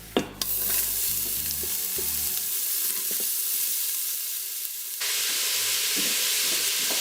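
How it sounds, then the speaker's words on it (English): Sliced onions drop into hot ghee with bay leaves and cardamom and sizzle loudly, with a few clattering stirs at first and then a steady broadband frying hiss that grows brighter and stronger near the end. "Now it's time to add the sliced onions."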